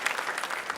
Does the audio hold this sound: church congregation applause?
yes